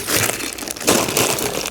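Plastic bags crinkle and crumple close up as scrap copper and aluminium are unpacked, a loud, dense rustle with a sharper burst midway through the short clip.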